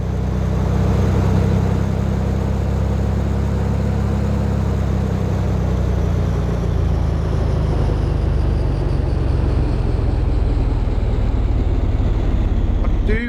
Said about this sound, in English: Loving how loud the engine is